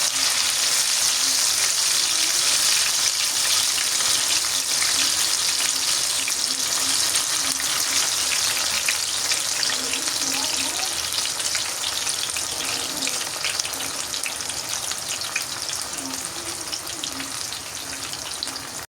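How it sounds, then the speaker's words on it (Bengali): Potato spirals deep-frying in hot oil, a steady dense sizzle with crackling that runs unbroken and close throughout, with no voices. "এখন আমার স্পাইরাল হয়ে গেছে ভাজা।"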